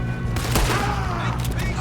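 A burst of sharp gunfire cracks amid a busy, noisy Red Dead Redemption 2 game soundscape, with voices talking underneath.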